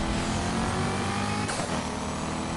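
A race car engine roars continuously at high revs during a nitro boost in Need for Speed Heat, loud and dense, with a brief rising whoosh partway through and no talk.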